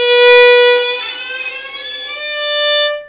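A bowed violin note played with heavy, strong bow pressure, rich and slightly harsh, sliding to a higher sustained pitch.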